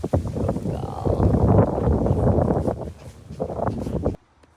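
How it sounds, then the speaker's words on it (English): Gusty wind buffets the microphone with a steady low roar outdoors during horse training, easing briefly before cutting off near the end. "Oh, it's windy, huh?"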